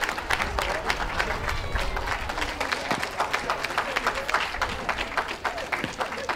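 Crowd at a championship dog show in Bournemouth cheering and applauding for Best in Show finalists, dense sustained clapping with cheers for the whole stretch, a voice over the top.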